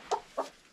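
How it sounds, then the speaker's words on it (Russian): A hen gives two short, soft clucks close by, spaced a fraction of a second apart, with quiet background. "Вот курочка."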